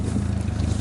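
VAZ 21011 Zhiguli car exhaust roaring: a loud, close, throbbing low engine rumble that holds steady through a brief moment.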